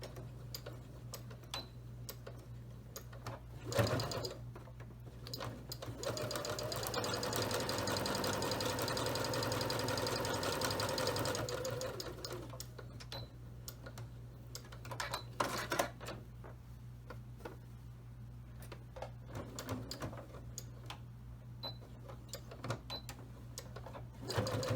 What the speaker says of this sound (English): I'm going to just do that top stitching